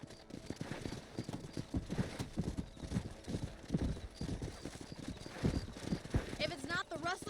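Horse hooves clip-clop in the Red Dead Redemption video game, a rhythmic series of hoof strikes at moderate level with a short whinny near the end.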